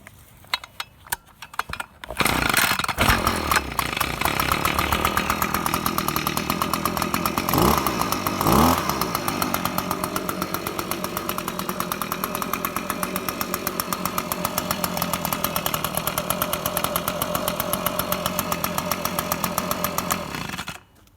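A small two-stroke Echo gas leaf blower engine sputters to life from cold after a pull start, then runs steadily at a high, buzzing idle, loud and close, until it cuts off.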